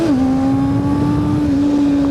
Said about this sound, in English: There's that exhaust.